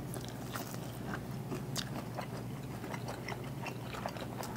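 Someone bites and chews a slice of pizza close up, with soft repeated crunches and wet mouth sounds over a low steady background hum.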